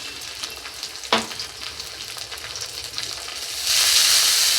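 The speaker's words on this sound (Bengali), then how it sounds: "ভালো করে একটু নাড়াচাড়া করে মিশিয়ে নেব।" Onion frying with ginger paste and turmeric in a pan, a steady close sizzle broken by stirring scrapes and one sharp knock, with the frying growing louder and hissier toward the end.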